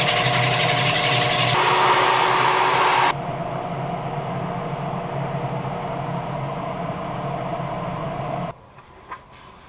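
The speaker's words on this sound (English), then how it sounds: "I think I'm going to sand the rest of that" Harsh, continuous rasping of sandpaper on a redwood serving plate, loud and close, with a brighter louder burst early on before it stops near the end.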